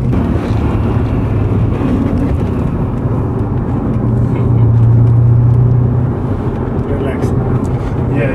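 A BMW E39 M5 accelerates hard, its engine a loud, steady low rumble from inside the car that swells midway, while people talk over it.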